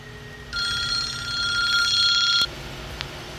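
A telephone rings in a garage beside a corrosion-locked BMW 325i engine, a loud electronic trill of rapid pulses lasting about two seconds before cutting off sharply.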